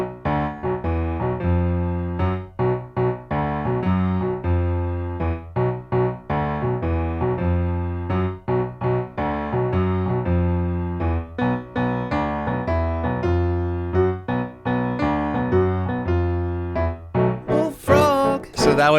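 Solo piano plays a riff without sustain pedal, repeated detached notes in a steady driving rhythm, loud and close, with a brief burst of noise at the very end.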